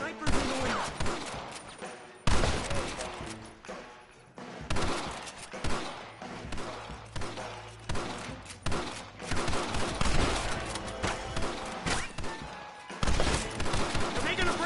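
Shootout gunfire in the video game Red Dead Redemption: loud, close shots and rapid volleys crack in quick succession with short gaps, with voices heard among the blasts.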